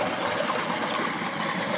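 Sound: borewell pump running, water flowing out

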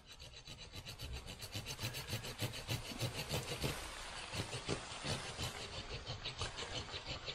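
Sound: pruning saw cutting a tree branch

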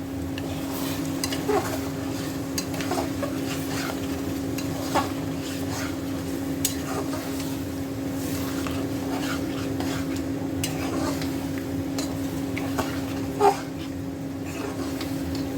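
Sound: slowly stirring olive pickle in pan

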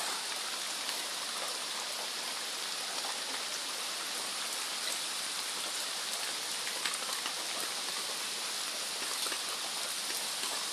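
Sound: heavy rain

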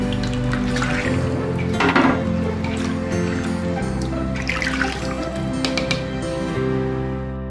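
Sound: excess water draining from rice in a strainer

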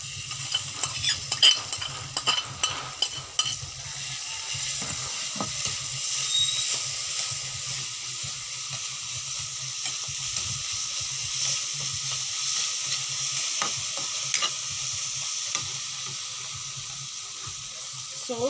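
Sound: chili paste being stirred and fried in a pan

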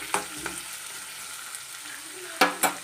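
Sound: onion half-frying in a pan

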